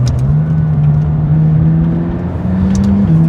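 A McLaren 570S with a 3.8-litre twin-turbo V8 drones loudly and steadily close by, holding a low engine note with slight pitch shifts.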